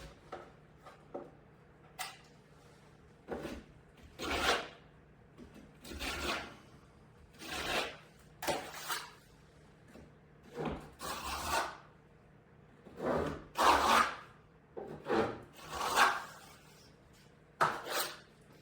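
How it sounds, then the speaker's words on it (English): A trowel skim coats joint compound into a textured drywall ceiling beside a window, producing repeated soft scraping and smearing strokes in irregular bursts, close and fairly quiet. "And here, I'm just skim coating into the side of that window."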